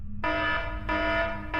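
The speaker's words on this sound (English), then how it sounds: "The alarms blared and the countdown began." A loud, harsh buzzing alarm on a spaceship sounds in repeated long blasts with brief gaps, steady and insistent over a low rumbling drone.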